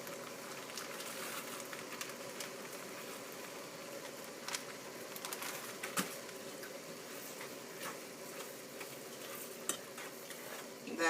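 Sugar is stirred into apples in a pot, a soft continuous wet churning with scattered light clicks and scrapes of the spoon, quiet and close.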